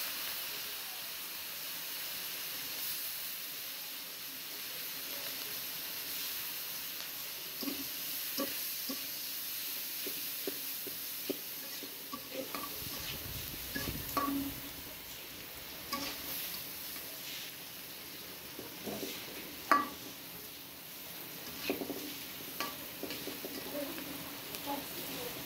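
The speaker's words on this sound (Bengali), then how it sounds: "এখন আমি পেঁয়াজ মরিচটা দিয়ে নেব" Onion and chili frying in a pan alongside dried fish, a soft continuous hiss and sizzle broken by scattered stirring scrapes and knocks, with one sharper clatter midway.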